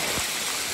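A waterfall sends out a steady, dense rush of flowing water. The sound is close and continuous, with no break.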